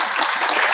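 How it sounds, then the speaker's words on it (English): Audience applause at a university event honoring a speaker, a brief, loud burst of dense clapping filling the room with no voices over it. "Please a round of applause for him."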